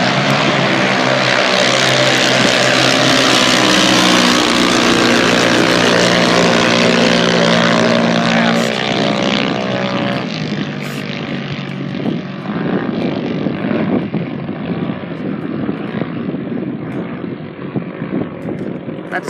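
Drag racing cars launching at Rocky Mountain Speedway at night, a loud engine roar from the start that thins out as the cars pull away into the distance, with heavy wind buffeting on the microphone.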